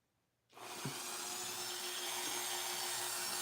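Wood being sanded with 400 grit sandpaper, a steady broadband hiss that starts abruptly after a brief quiet and then holds constant and close, with a faint hum underneath and no talk.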